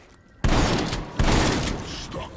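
Gunfire in the Call of Duty zombies map Die Maschine: two loud, dense bursts of rapid shots, the first starting abruptly and the second following less than a second later, each trailing off, heard up close.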